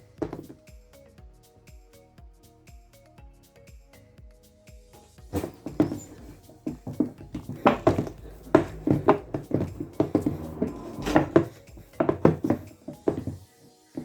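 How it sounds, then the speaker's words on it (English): Puff-puff dough worked by hand, with soft wet slaps and thuds in an irregular rhythm that start faint and grow louder and busier partway through, close by with no talk. "if it is very dry, okay, or you just keep mixing until it gets soft"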